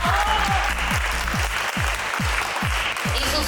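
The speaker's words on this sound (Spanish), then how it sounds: "aplausos para Susana." An audience applauds for a teacher at a school literature panel at a book fair, steady dense clapping from a large crowd throughout, with faint background voices beneath.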